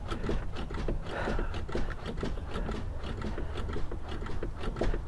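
Repeated mechanical clicking and squeaking from the brake pedal of a 1980 Corvette with no brake pressure being pumped several times, steady and close, with no voices.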